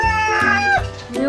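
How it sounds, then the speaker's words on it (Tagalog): A rooster crows nearby in one short, strained call of gliding, nasal tones, loud and close, with a voice mixed in. "Yun, manok yun. Tumilaok po"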